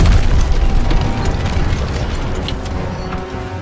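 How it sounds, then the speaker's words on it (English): Call of Duty WWII battle with friendly tanks advancing over a trench: dense, continuous low rumble and clanking mechanical noise with scattered booms and bursts, loud and close throughout. "Friendly tanks coming over the trench!"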